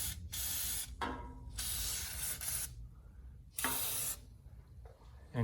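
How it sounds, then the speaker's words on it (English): Fluid Film rust protection undercoating is sprayed under a car in several short hissing bursts of about a second each, separated by quiet gaps, fairly close and with no talking. "I tried to cover as much I can and spray areas that pretty much I missed in the process."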